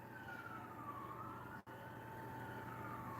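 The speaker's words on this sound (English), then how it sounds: "I'm not going to worry about the sirens." Emergency vehicle sirens wail steadily outdoors, a continuous rising and falling tone held across the whole stretch with a brief dip partway through, no talking.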